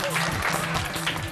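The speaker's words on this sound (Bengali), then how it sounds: "হাততালি হয়ে যাক" A studio audience breaks into brief applause, a soft wash of clapping heard alone and fairly close for a moment.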